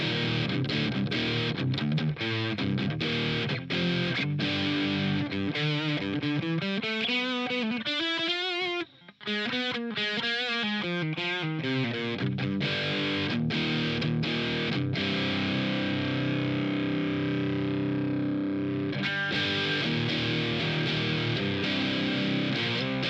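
Electric guitar played through distortion on a laptop or iPad serving as the amp head, with spring reverb off; loud, dense, sustained chords and bending lead notes fill the passage without pause, with a short dropout midway.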